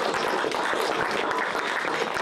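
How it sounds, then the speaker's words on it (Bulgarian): Studio audience applauding to welcome a guest onto a talk show: dense, even clapping from many hands, steady and moderately loud throughout a short burst, with no clear voices over it. "Венци Мисов, да го посрещам с аплодисменти"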